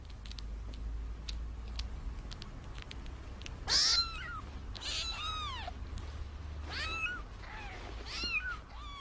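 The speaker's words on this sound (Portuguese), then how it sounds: "Os gatinhos seguem o cheiro e o calor das tetas da mãe." Kittens nursing from their mother cat make a series of high, thin mews scattered through several seconds, with one louder cry near the start and softer calls after it over a low background hum.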